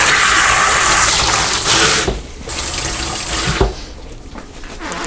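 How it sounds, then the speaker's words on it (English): Tap water runs loud and steady into a kitchen sink during handwashing, then drops to a quieter, uneven splashing as the hands move under the stream. "Now I gotta wash my hands."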